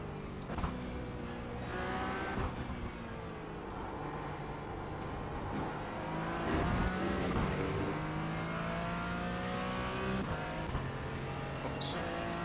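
A race car engine in the iRacing sim revs and drones with steady harmonic tones that climb and fall as it pulls through the gears, loud and continuous, with brief blips near the end.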